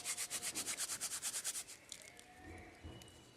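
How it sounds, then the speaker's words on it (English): Quinoa seeds rubbed briskly between bare hands to strip their outer casings make about a dozen quick, even, scratchy strokes, then a looser rustle. The sound is quiet and close. "what I do is just rub them between your hands"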